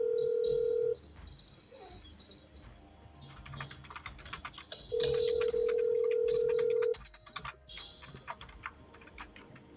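Phone call being placed to someone named Charlie, with a dial or ringback tone sounding in two steady bursts, one at the start and a longer one in the middle, over soft tapping and clicking in between.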